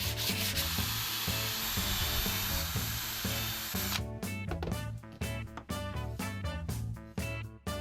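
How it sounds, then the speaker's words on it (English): Wooden grab rails for DIY campervan tables are sanded smooth. A loud continuous sanding rasp gives way to a rhythmic series of back-and-forth rubbing strokes, close up and without speech. "So I'm just smoothing everything off on these little grab rails."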